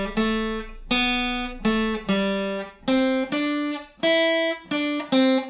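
An acoustic guitar strums the opening two bars of a song, a run of distinct picked chords in a steady rhythm, each ringing briefly before the next, close and clear with no talking.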